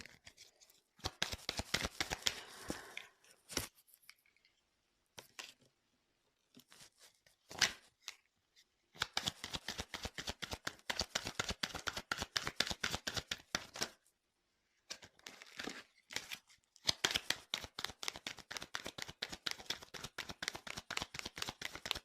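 Tarot cards being shuffled and drawn in quick papery bursts of riffling and flicking, several clusters separated by brief pauses, close and fairly quiet with no talking.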